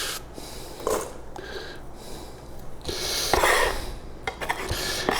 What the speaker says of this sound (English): We are cutting up the onion.